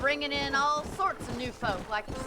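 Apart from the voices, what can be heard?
No distinct noise like a dog, phone or traffic.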